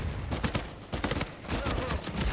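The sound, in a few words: gunfire in Uncharted 4 multiplayer video game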